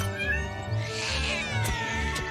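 Several cats meow and caterwaul in a cat-filled house in the video game Postal Brain Damaged, drawn-out whiny calls overlapping near and clear with no talking.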